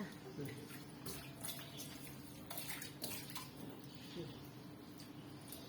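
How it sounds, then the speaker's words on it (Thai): Thai rice noodles (khao pun) blanched in a pot in a home kitchen, with clinks and scrapes of utensils against metal, faint watery stirring and sloshing, and someone talking throughout. "ลวกข้าวปุ้นนะจ๊ะ"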